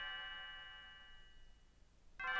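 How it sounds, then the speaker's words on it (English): A bell chime from the video game Chrono Trigger rings with a clear, sustained tone that slowly fades, then a second bright chime strikes sharply at the end. "And the bell chimes"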